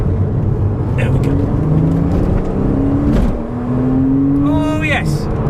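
Porsche Cayman pulling hard in second gear, engine note climbing steadily and loud from inside the cabin, with a brief dip around a shift before rising again; a person talks over it.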